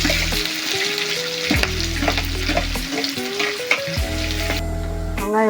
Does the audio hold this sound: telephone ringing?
no